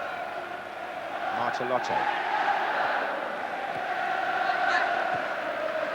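A 45,000-strong football crowd at Wembley backs England against Argentina in the sunshine, its steady broad roar running underneath a commentator's voice for the whole stretch.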